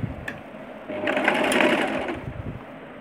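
A sewing machine stitches lace onto a skirt in one steady close run lasting about a second and a half, set between quieter handling noise.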